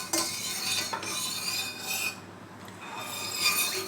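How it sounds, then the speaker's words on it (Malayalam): A spoon scrapes and rubs around a pan of coconut milk warming on the stove, steady close stirring strokes with a soft rasping texture. "നമ്മുടെ തേങ്ങാപ്പാലൊന്ന് ചൂടായി വരുന്നിടം വരെ ചെറുതായിട്ടൊന്ന് ഇളക്കി കൊടുക്കാം"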